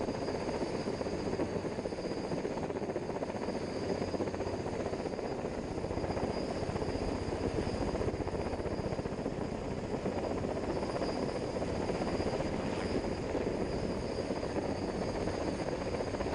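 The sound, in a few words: helicopter lifting off towing a heavy load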